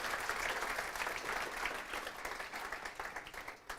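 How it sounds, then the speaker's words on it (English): Audience applause at the close of a design systems meetup talk in Toronto, a steady dense patter of many hands clapping for a few seconds, fairly loud and continuous with only faint background voices. "Round of applause,"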